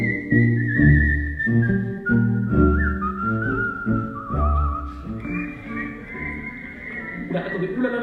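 Whistling from an audience at a cultural season launch evening, a wavering whistled tone running throughout over a loud bed of music and crowd noise, with voices present.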